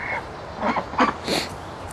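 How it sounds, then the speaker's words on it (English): Ducks on a farm quacking nearby, several short raspy calls spaced out over a couple of seconds against a quiet outdoor background. "There's the ducks."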